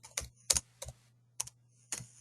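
Computer keyboard keys tapped while entering a fiberglass repair estimate: five separate key presses with uneven gaps between them, sharp and close, with a steady low hum underneath and no talking.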